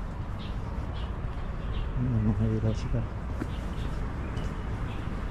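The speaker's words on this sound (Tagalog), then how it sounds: "Daming ibon." Many birds calling with soft repeated pigeon or dove coos among trees along a walking path in Xinwu, a steady chorus in the background while a person speaks nearby.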